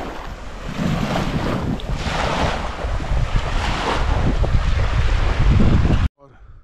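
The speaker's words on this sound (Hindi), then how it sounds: "देखो यहाँ पे कैसे समुंदर की तरह लहरें आ रही हैं" Waves on the shore of Pangong Lake in Ladakh, arriving strongly like sea surf: a continuous rushing wash with gusty wind noise on the microphone, close and loud, ending abruptly.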